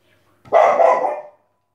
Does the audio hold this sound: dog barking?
yes